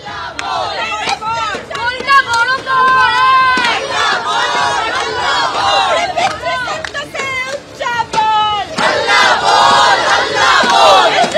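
Protesters fill a Kolkata street with chanting crowd voices, rising and falling cries of slogans that carry loud and continuous throughout.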